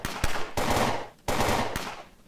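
Gunfire in the zombie shooter Fort Zombie: two long bursts of rapid automatic fire, loud and close, each cut off sharply, with single sharp shots between and at the end.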